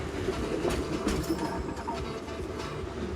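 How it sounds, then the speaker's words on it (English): A Melbourne tram, French-built, rolling along city rails with rhythmic wheel clicks and rumble, moderately close and steady, with street ambience behind and no talking. "The trams."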